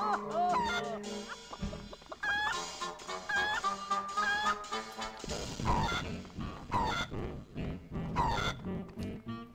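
Video game chicken clucks and squawks, repeated and bright, mixed over game music and other effects, with brief voices in the background.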